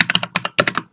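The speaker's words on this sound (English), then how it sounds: "I just feel like typing shit." A new computer keyboard is typed on in quick bursts of sharp, close key clacks, about a dozen strokes in two clusters with a brief pause between.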